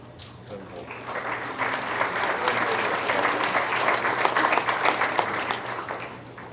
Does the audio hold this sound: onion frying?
no